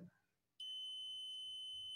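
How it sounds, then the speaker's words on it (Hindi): A multimeter beeps while checking a faulty diode from a soldering iron repair, a single steady high-pitched tone that starts abruptly after a short quiet pause and holds continuously to the end. "इसमें बीप आ रहा है मतलब ये जो डायोड है ये पूरी तरह से ख़राब हो चुका है"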